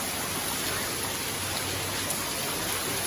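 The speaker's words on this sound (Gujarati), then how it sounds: "સિરિયસલી ગાઈસ ખતરનાક વરસાદ પડે છે" Heavy rain pouring steadily in Vadodara during flooding, a dense, even wash of close rain noise with no breaks and no voices.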